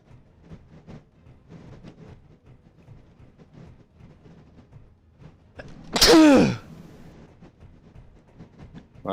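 A single loud, sudden sneeze bursting out over faint background clatter and quiet low sounds, close to the microphone.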